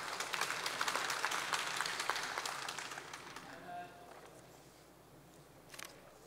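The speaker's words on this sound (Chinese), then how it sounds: "我们跟他鼓掌一下啊。" Applause fills a legislative chamber for a legislator's birthday, a broad patter of many hands that is fairly distant and soft, fading out after a few seconds into quiet room tone.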